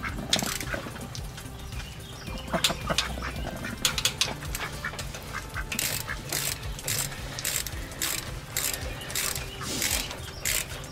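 A torque wrench ratcheting as it tightens bolts on a 1974 VW Beetle engine, a close run of quick metallic clicks in short irregular bursts with small clanks of tools throughout.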